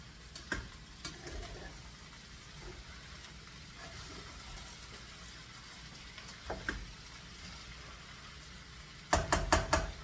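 Meat cooking in a hot pan for hash, a faint steady sizzle with occasional knocks and scrapes from stirring, ending in a burst of louder clatter.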